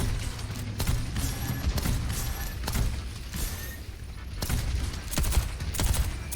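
Gunfire from Baptiste, a hero in Overwatch, plays as dense repeated bursts of shots that run through the whole stretch. Several bursts land close and loud near the end, with no talk over them.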